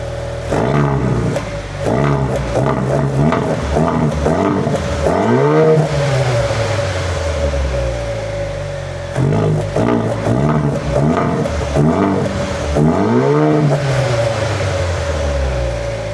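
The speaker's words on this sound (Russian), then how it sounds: "как вам выхлоп этого монстра?" A Haval H6 GT coupe crossover engine revs hard several times, the exhaust roaring up and dropping back, with a steady idle rumble between the bursts, loud and close.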